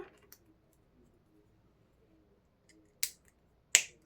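Two crisp, sharp snips of scissors trimming bracelet material, close and isolated in an otherwise quiet room, following a few faint small clicks.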